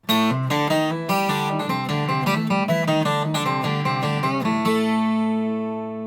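A Guild twelve-string acoustic guitar plays a quick bluesy lick in A of bright, shimmering notes, ending on a ringing chord that fades out; close and alone.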